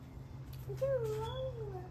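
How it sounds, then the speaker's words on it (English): A cat meows once with a rising then falling, drawn-out tone, heard close over a steady low hum indoors. "Say hi, cat."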